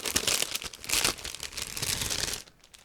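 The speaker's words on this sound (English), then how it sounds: "These are resealable plastic bags, so it's quite easy to open, as you heard" A resealable plastic bag holding plastic model kit sprues is pulled open. The sound is a close, continuous crinkling and rustling of thin plastic that fades near the end.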